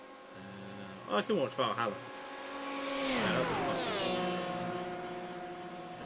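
Le Mans prototype race cars on the Mulsanne straight, engines dropping in pitch as they brake hard from high speed, a loud swelling and falling drone under a man's speech.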